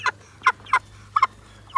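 A hen gives several short, sharp clucks in an uneven rhythm, close and fairly loud, during a weigh-in of backyard chickens, with a faint low hum underneath.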